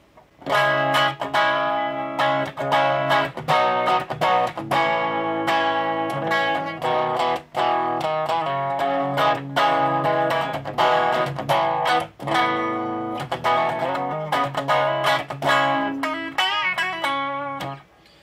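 Loud, crunchy distorted electric guitar through a diode clipping distortion pedal plays chords and single notes continuously, with a fuzzy overdriven tone and no talking.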